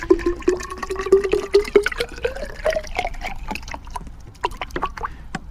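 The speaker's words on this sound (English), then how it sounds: "we're going to pour this water in" Well water is poured into a 4Patriots Sun Kettle, a close trickling and gurgling stream whose pitch rises steadily as the vessel fills, with small splashes.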